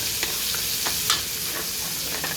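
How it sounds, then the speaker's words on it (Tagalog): Bacon frying in a pan for carbonara, a steady close sizzle and crackle with a few sharper pops and spatters, no voices over it. "Kailangan yan iprito. Yan yung bacon."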